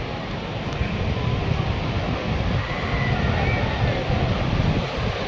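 Sea water surging onto a beach where starfish lie on the sand, heard as a steady, loud broadband wash with wind rumble on the microphone, continuous throughout with no clear individual wave breaks.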